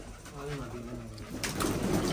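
Close, soft pigeon coos roll out in a short series over a faint background of people and room noise.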